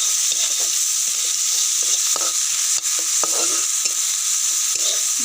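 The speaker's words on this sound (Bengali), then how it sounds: "দিয়ে ভালো করে মশলাটাকে কষিয়ে নেব।" Ground turmeric, chili, cumin and coriander sizzle steadily in hot oil in a pan, a bright continuous crackle broken by occasional stirring scrapes, with no talking.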